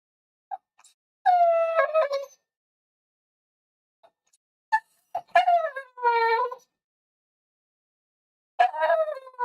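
Dog whimpering and whining close by in short, high, wavering bursts separated by silent pauses, about three clusters of cries.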